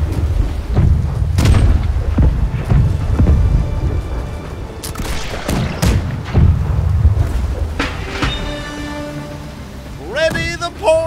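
Naval cannons fire from a small hoy ship in the pirate game Blackwake, a series of heavy booms and broadside blasts scattered across the stretch, with rumble between shots and a brief tonal burst near the end.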